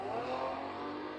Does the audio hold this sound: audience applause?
no